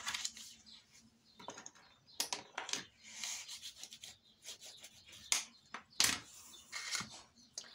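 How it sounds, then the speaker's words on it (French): Paper is scored along a fold crease in close, quiet, irregular scraping strokes, short rasping rubs that start and stop. "Alors, je marque le pli."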